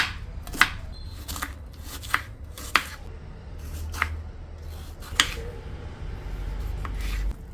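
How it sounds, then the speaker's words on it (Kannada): Onions, tomatoes, fenugreek, ginger and garlic being chopped on a board, sharp knife strikes coming singly at irregular intervals with soft scraping between them, close and clear with no talking. "ಇದಕ್ಕೆ ಒಂದು 5 ಈರುಳ್ಳಿ ಬೇಕು, 4 ಟೊಮ್ಯಾಟೊ, ಮೇಥಿ, ಶುಂಠಿ, ಬೆಳ್ಳುಳ್ಳಿ, ಇದನ್ನೆಲ್ಲ ಕಟ್ ಮಾಡ್ಕೋಬೇಕು ನಾವು"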